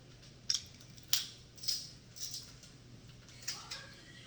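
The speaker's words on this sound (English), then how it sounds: "with this garlic press because it squeezes it right out of the peel" A handheld garlic press squeezing a peeled garlic clove out of its skin in a home kitchen: a handful of faint, short crunchy squeaks and clicks spaced about half a second apart, quiet and close with no voices.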